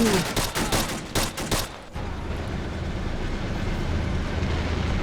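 Gunfire from the Men of War Assault Squad 2 battle game: a rapid series of loud, evenly spaced shots for about two seconds, then cut off into a steady dense roar of distant battle noise.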